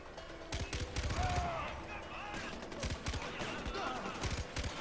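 Machine gun fire in the video game Far Cry 4, loud repeated bursts of rapid shots with sharp cracks across the span, mixed with other game sounds and a voice speaking.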